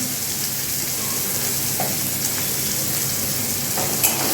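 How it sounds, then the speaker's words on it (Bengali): A medium chopped onion with turmeric fries in the oil left over from cooking rui fish, making a continuous, even sizzle throughout, with one faint clink near the end. "এবার এটা একটু ভাজবো"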